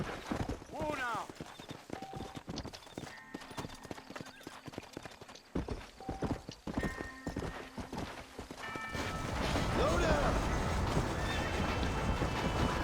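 A horse in the video game Red Dead Redemption gallops with steady, rhythmic clip-clop hoofbeats and lets out loud whinnies near the start and again late on, while people talk over the scene and the background swells louder toward the end.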